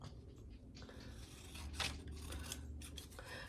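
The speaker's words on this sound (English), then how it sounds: "I'm going to cut these out." Paper inserts being cut out with scissors, giving a steady rasping snip-and-slide close by, with one louder cut near the middle and no talking.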